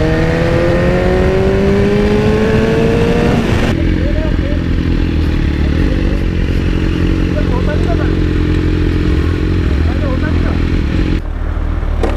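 A Kawasaki Ninja ZX14R motorcycle is ridden on a city road at night, its engine revving up in a rising pitch, then holding a loud, steady roar mixed with wind rush.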